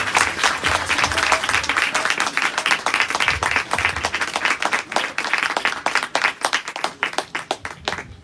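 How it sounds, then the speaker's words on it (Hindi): A church congregation at a Hindi-Urdu-English sermon claps vigorously to welcome the Holy Spirit, with many hands forming a busy, uneven rhythm that stays strong throughout and loosens slightly toward the close. "हम रूल कुदस के लिए, पाक रूह के लिए, होली स्पिरिट के लिए जोरदार तालियां बजाकर वेलकम करेंगे"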